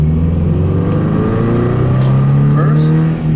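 A 2013 Scion FRS engine accelerates loudly and close, a steady drone rising gradually in pitch over a few seconds, then dipping briefly at the end as a gear change comes.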